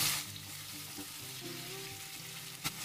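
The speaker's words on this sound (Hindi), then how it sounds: "पनीर को अच्छा सा कलर आ चुका है। और अच्छे से फ्राई भी हो चुके हैं और थोड़ा सा इसे हम फ्राई करेंगे" Paneer cubes frying in a pan for paneer butter masala, giving a steady, close hissing sizzle throughout with a brief utensil knock near the end.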